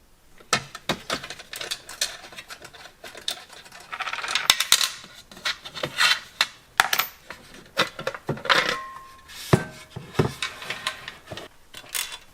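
Small screws are loosened on the metal transport plate of a Märklin Krokodil gauge 1 model locomotive resting on a foam pad, giving sparse metallic clicks, scrapes and taps in irregular bursts, close and fairly quiet.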